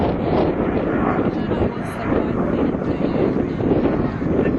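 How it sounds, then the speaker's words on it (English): A P-51 Mustang with a Packard-built Rolls-Royce Merlin engine roars steadily at an airshow at Duxford, a loud continuous drone with wind buffeting the microphone throughout. "the engine that really made the Mustang was the good old Rolls-Royce Merlin, albeit built by the American Packard company"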